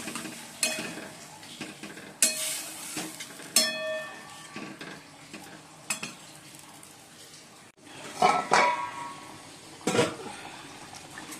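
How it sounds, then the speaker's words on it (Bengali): Fish curry cooking in a pan in a home kitchen after water is added to the fried spices, with a soft bubbling simmer under intermittent metal spoon scrapes and clinks against the pan, some louder stirring bursts near the end. "মাছ তো দিয়ে দিয়েছি, ফুটে গেছে ঝোল"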